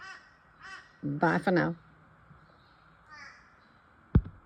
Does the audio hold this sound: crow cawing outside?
yes